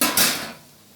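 Potatoes and fried duck eggs tipped into a pan of frying onion and spice masala, a brief metallic clatter with a quick second knock, then a fading sizzle, no talk.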